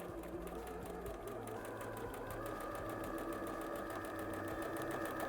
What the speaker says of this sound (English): we're sewing with a 1/4 inch seam allowance all the way down to the end